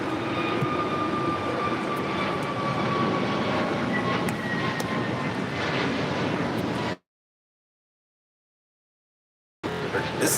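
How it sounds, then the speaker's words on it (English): An Alaska Airlines Airbus A321neo taking off for Seattle at LAX, a steady loud jet roar with rising engine tones that runs for about seven seconds, then cuts out to silence before the noise briefly returns. "This is Alaska Airlines 1317 taking off to Seattle on an A321neo"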